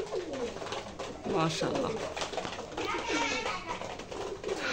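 Pigeons coo steadily on a farm with young birds and newly arrived pigeons, soft throaty calls repeating close by while someone speaks briefly over them.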